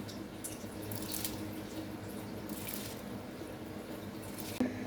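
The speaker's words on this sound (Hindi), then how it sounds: "अब इसमें चावल डाल देंगे।" Rice being added to a pot of boiling salted water while cooking chicken tikka pulao: a steady watery bubbling with a few splashy bursts, then a brief clink near the end.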